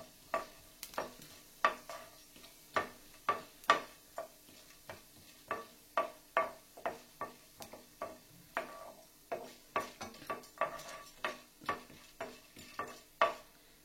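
Urad dal and chana dal roast in a pan over a low flame, with a soft background sizzle and a regular run of sharp clicks and scrapes as a spoon stirs the lentils.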